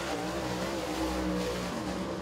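Sprint car powering hard out of turn four on a dirt oval during qualifying at Duck River, a steady loud engine roar lasting the whole stretch, with no speech.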